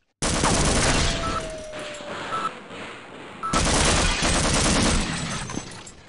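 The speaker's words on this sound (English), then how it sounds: "Did I activate the turrets?" Automated turrets in the game Half-Life fire sustained bursts of rapid gunfire, loud and dense, with a brief lull in the middle before another long volley.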